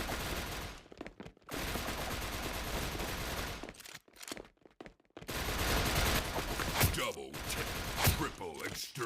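Rapid bursts of automatic gunfire from the shooter video game Wardeka, loud and dense, broken by a few short pauses, with someone talking over parts of it.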